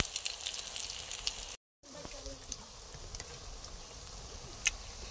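Pumpkin flowers dipped in rice flour batter fry in hot oil, giving a soft, steady crackling sizzle broken by a brief silence, with faint talk in the background.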